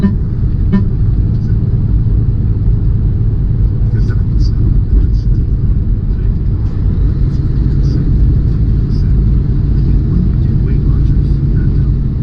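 A semi truck hauling a load of water is losing engine power while driving. A steady, loud, low engine drone and road rumble fill the cab without a break.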